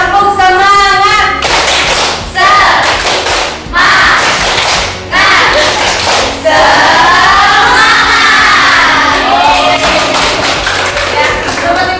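A classroom of students does a rhythmic group cheer-clap before a lesson, bursts of clapping and thumping interspersed with shouted chanting voices, close and loud throughout.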